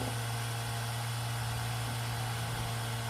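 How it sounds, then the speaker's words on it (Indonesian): A Daihatsu Taruna EFI engine runs at a steady high idle, revving fast after the power steering pump hose was left disconnected; a constant, dense mechanical drone with a strong low hum, close and alone. "akan menyebabkan mesin RPM-nya tinggi seperti ini"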